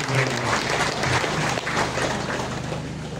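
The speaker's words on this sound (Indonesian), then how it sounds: "Mari kita berikan tepuk tangan untuk mereka." Crowd applause for liturgy helpers and choir at a church celebration, a dense, steady clatter of many hands, fairly loud and continuous, with faint voices mixed in.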